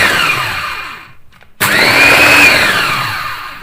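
A Zenoki Touch 700 W food chopper whirs loudly as it chops a vegetable mixture, motor running steadily, then briefly pausing before starting up again at full speed.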